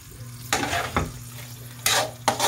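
Bicol Express being stirred in a pan, a low simmering bubble under a few distinct scraping strokes of a utensil against the pan, close and fairly loud.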